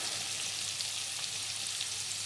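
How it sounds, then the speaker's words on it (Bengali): Salted potatoes frying in oil, a steady even hiss of sizzling at moderate loudness with faint crackles throughout and no voices. "দিয়ে আলুটাকে লাল করে ভেজে নেবো"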